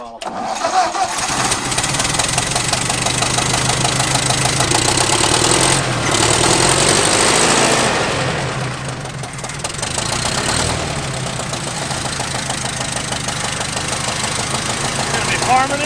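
An abandoned tractor's engine runs loud and close, with a rough knocking idle that swells as the throttle is raised, dips briefly, then settles back into a steady chugging rumble.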